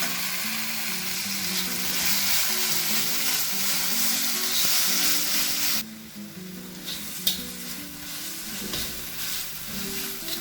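Thinly sliced tomato frying in a pan with onion and chilli for a potato and anchovy sambal, a loud continuous sizzle that drops abruptly partway through, then quieter bubbling with occasional stirring clinks.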